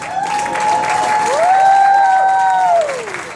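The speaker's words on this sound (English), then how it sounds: "So give another round of applause." A convention crowd applauds and cheers, with clapping underneath loud sustained shouts and whistle-like voices that swell in the middle, then taper off.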